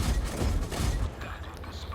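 Tank cannon fire from a Covenanter in World of Tanks: heavy, low booming rumbles packed into the first second, then fading to a softer tail while a voice talks over the battle.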